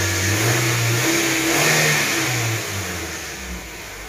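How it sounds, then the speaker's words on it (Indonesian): A Suzuki Grand Vitara 2.0 engine with a faulty water pump bearing runs near the listener, its steady mechanical drone rising briefly as if revved, then settling back toward idle, with no voices. "Ini ada suara bearing tidak normal."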